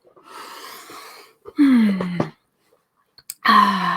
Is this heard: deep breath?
yes